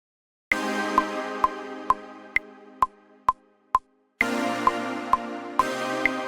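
A bright synth layer plays over chords in a dark alt-pop production, with sharp evenly spaced plucky hits ringing out in two phrases separated by a short gap.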